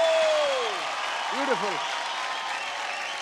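Studio audience applause for a singer on an Indian singing reality show, a steady wash of clapping that continues for several seconds while a voice speaks briefly over it.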